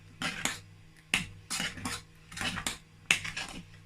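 A spoon stirs okra stew in a metal pot, making a handful of distinct scraping clinks at an uneven pace, close and fairly quiet, with no talking.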